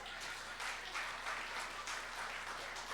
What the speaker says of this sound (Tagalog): iilan lang din pumapalakpak